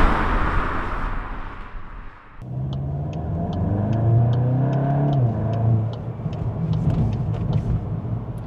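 Volkswagen Golf GTI Mk8.5 Clubsport, whose engine note is partly synthesized: a muted whoosh gives way to a close, droning engine that rises and falls in pitch as it revs, with faint ticking on top.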